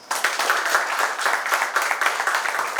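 An audience at a school batch reunion get-together applauds, producing sustained, fairly loud clapping that starts abruptly and continues evenly to the end.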